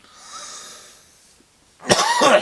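After a quiet, hissy stretch, one loud, harsh cough bursts out close by near the end, rough and throaty.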